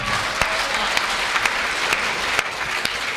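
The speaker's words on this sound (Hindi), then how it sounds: "तालियां पीछे वाले कम बजा रहे हैं" An audience claps steadily throughout a short burst of applause at a Hindi comedy poetry gathering, a hasya kavi sammelan. Dense, even clapping has a few sharper individual claps popping out.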